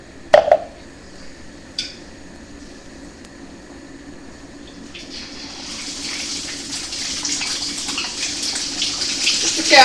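Chicken pieces for Cantonese-style lemon chicken go into hot oil: a few light clinks, then a hissing sizzle that builds and grows louder and busier over several seconds.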